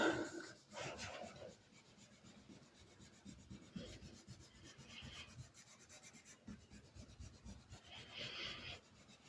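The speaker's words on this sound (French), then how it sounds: "Et je frotte pour récupérer la couleur." Paper being rubbed by hand to transfer colour in a craft project, producing quiet, continuous scratchy rubbing strokes, close up and alone with no talk.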